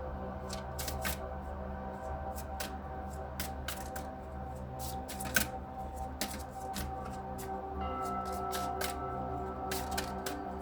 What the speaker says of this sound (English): so we'll keep shuffling